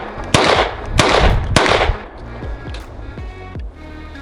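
A Ruger 57 pistol fires three sharp shots in quick succession, loud and close, each followed by a ringing tail, then a few fainter clicks and small knocks as the gun settles.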